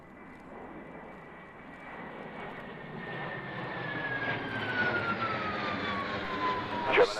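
A German Air Force military jet landing on runway 27, its engine roar swelling steadily louder as it approaches and ending in a sharp peak, with a faint descending whine threaded through the noise.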